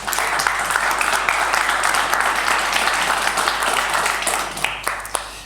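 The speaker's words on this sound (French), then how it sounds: "Je vais même lui demander à ce qu'on l'applaudisse juste une seconde" Conference attendees at a Mutualité Française colloquium applaud a speaker named David, giving brisk, continuous clapping from a roomful of hands, loud and even for several seconds with sharper individual claps standing out.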